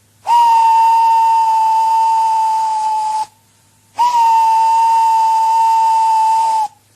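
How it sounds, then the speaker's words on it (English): A steam locomotive whistle at a station blows two long, loud, steady shrieks with a short gap between, accompanied by a hissing edge. "Gordon went on whistling and whistling and whistling"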